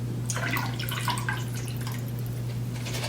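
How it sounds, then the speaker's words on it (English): Chicken broth being poured into a soup pot, a steady splashing, trickling stream under a constant low hum, no talking. "So pour the rest of your chicken broth in"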